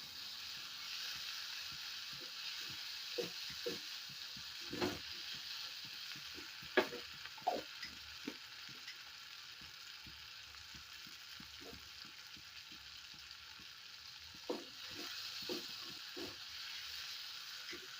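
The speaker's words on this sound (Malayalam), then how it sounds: "അത് ചെറുതായിട്ട് വഴറ്റിയെടുക്കുക" Fennel seeds sauté in a pan as the base for an anchovy fish curry, making a soft, steady sizzle with occasional light clicks from stirring.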